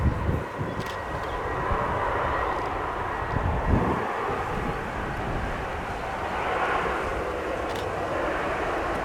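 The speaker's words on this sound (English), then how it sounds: "Plane is now on its way out again." An Airbus A340 departing from London Stansted Airport, a broad steady jet engine roar that holds loud and even throughout with slight swells.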